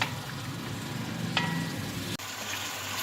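Tomatoes frying in browned masala in a pan for a torai (ridge gourd) dish, a steady close broadband sizzle with a soft scrape of stirring partway through.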